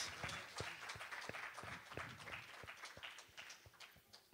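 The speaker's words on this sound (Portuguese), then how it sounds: "Podemos dar uma salva de palmas ao nosso Deus." A congregation claps at an online Portuguese-language church service, a fairly faint, loose spatter of individual hand claps continuing steadily for several seconds.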